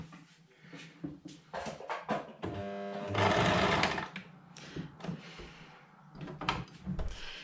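A sewing machine runs in short bursts of zigzag stitching along a fabric edge held against the presser foot, with one longer steady run in the middle and clicks and handling noises between bursts.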